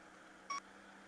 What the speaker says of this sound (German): Du hörst es auch nur ganz abgekackt piepsen.